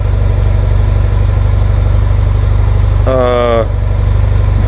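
A 1977 BMW R100S motorcycle idles with a loud, steady low throb, the twin-cylinder pulse continuous throughout, while a person briefly speaks over it near the end.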